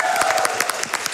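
A short burst of dense applause from a crowd, steady and fairly loud throughout, at a Summer Games Done Quick 2022 speedrun event.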